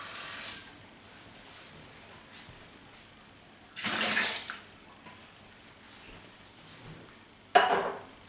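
Water poured into a plastic beer fermenting bucket to rinse out a ginger beer brew, heard as two brief splashing bursts amid quiet background.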